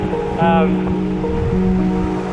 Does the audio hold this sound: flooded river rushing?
yes